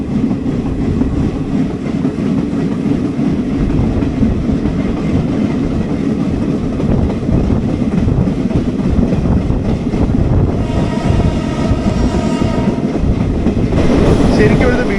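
A DEMU train pulls out of Kuravappulam station and runs on the rails, heard from on board as a loud, constant rumble with wind buffeting and rhythmic wheel clatter, and a faint whine rising near the end.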